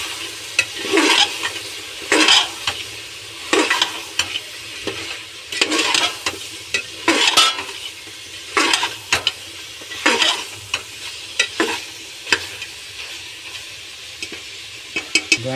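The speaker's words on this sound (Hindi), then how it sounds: "गरम मसाला, और इसको मिक्स करेंगे।" A spoon stirs mutton curry with garam masala and red chilli powder in a pan, giving repeated scraping strokes at an irregular pace over a continuous close sizzle of frying, with no talking.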